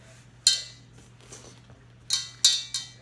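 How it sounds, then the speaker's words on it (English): A pastry blender or fork mashing butter into an oat crumble mixture for blackberry crisp, a few sharp metallic clinks and scrapes against a bowl, spaced irregularly in a quiet room. "you're going to get a pastry blender or a fork or a couple forks. And just kind of mash the butter in"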